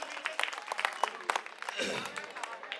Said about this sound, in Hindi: अपने लिए भी बजा लो एक बार।